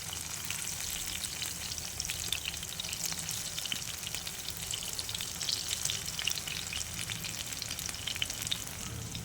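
Tomatoes, onion and boiled potato frying in oil make a steady, dense sizzle that crackles continuously and close-up, with no talk over it.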